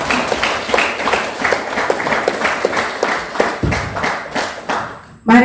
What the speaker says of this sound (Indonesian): Kita akan mengakhiri dengan tepuk tangan bersama